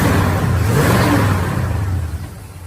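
A muscle car with dual exhaust revving, a loud steady engine rumble close by for about two seconds that then eases off and fades slightly toward the end.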